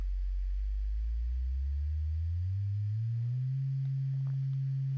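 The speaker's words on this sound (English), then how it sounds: "So now you should be hearing quite a steady tone. That's 134 oscillations per second, cycles per second." A pure low sine tone from a VCV Rack software oscillator glides upward in pitch, then holds steady at 134 cycles per second, clean and continuous with no talk.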